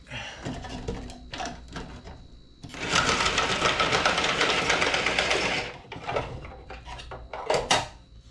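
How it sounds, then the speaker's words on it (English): An electric card shuffler whirs through a deck of cards during a tabletop session of a JU 87 Stuka Ace campaign, a steady mechanical riffling burst of about three seconds, close and fairly loud, framed by lighter handling clicks and taps. "We'll throw this in the shuffler real quick."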